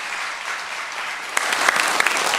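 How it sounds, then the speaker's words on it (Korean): Applause from a church congregation at a Sunday morning service, moderate in volume, swelling with sharper individual claps toward the end. "박수로 한번 우리 환영하도록 하겠습니다."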